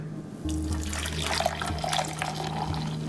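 Water poured from a kettle into a matcha cup that already holds sweetener, a steady close splashing stream that begins abruptly and runs without a break.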